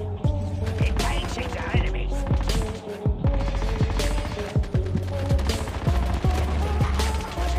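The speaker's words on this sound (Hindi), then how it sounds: "मुझे यहाँ पे फायरिंग की आवाज़ आती है" Automatic-weapon fire in the mobile shooter Call of Duty Mobile during a squad ranked match: rapid, rhythmic bursts of sharp shots repeat steadily and loudly, with a heavy low thump under each shot, continuing for the whole stretch.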